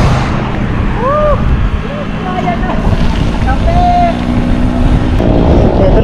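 Strong headwind buffets the microphone of cyclists riding near Palayan City, Nueva Ecija, a loud continuous low roar throughout with brief tonal whistles over it.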